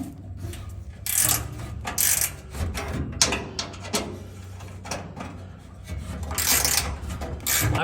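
A 9/16 wrench ratchets on truck bed bolts of a 1971 Chevy C10, giving bursts of close metallic clicking that come and go in several short runs.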